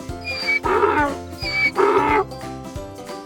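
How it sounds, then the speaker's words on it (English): A donkey brays in two loud, close, drawn-out calls, each a rasping heave rising and falling, over a quiet musical backdrop with no voices. "That's right, it's a donkey."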